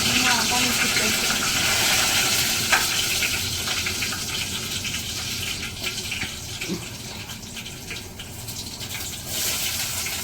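Water boils in a cooking pot in a village kitchen, a steady bubbling hiss that continues throughout at moderate loudness, with a voice talking over it at times.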